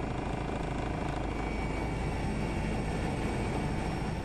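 A steady, even whir and rumble of a German Federal Police helicopter circling overhead above an accident site near Schmalenberg, holding constant throughout with no voices.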